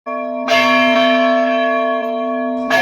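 A temple bell made at a traditional forge rings out loud and close, its sustained metallic tone ringing on for about two seconds before a second strike begins.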